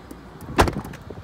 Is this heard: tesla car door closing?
yes